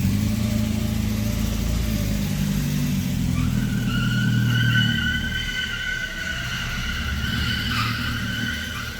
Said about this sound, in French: Je vais la garer là, vite fait sur le côté.